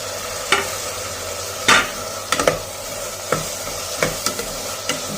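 Chopped tomatoes and onions sauté in a pan under a constant sizzle, while a spoon scrapes and knocks against the metal in sharp, irregular strokes several times.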